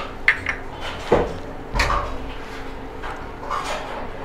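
Red chili, coriander powder and mutton masala being stirred into mutton in a pan at home, heard as a few scattered metallic scrapes and clinks of a spoon against the pan, moderately close, with no talking.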